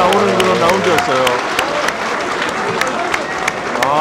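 Steady applause from a crowd at a professional boxing match, dense clapping filling the whole stretch, with voices and cheering mixed through it.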